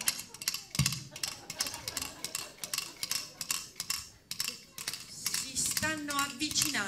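Foley hoofbeats imitate galloping horses in an Italian radio play, a rhythmic clattering patter of sharp knocks that speeds and thickens, with other noises joining near the end.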